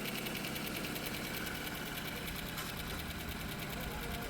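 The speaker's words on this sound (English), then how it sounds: "So on first start, the engine will first be noisy before the engine oil circulates." A Toyota 2AR car engine idles steadily after repair, running on its first start with a continuous, fairly loud mechanical clatter and a high ticking rattle throughout, close to the listener.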